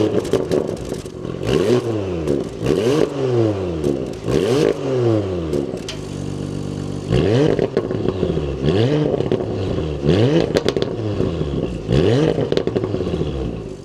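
A 2026 Porsche Macan S runs up through repeated engine revs, each pass a rising then falling sweep, with a steadier stretch in the middle, close and loud with no talking.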